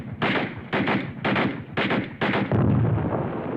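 Heavy automatic gunfire pins down infantry, coming in loud, close bursts of rapid shots separated by short gaps, with the last burst running longer and deeper and no one speaking.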